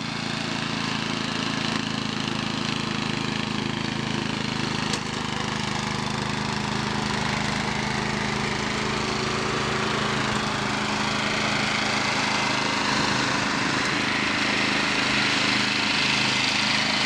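A lawn mower engine runs continuously on a hot day, a steady mid-pitched buzzing drone held at moderate distance for the whole stretch, with slight fluctuations and no talking.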